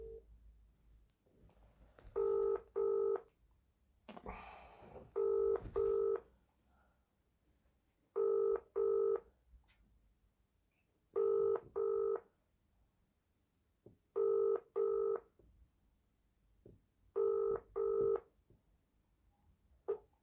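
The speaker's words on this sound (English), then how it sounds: "Ringing up Christopher Browell." Repeated ringing tones from a mobile phone line, each a pair of short electronic bursts, recurring at steady intervals over quiet background hiss.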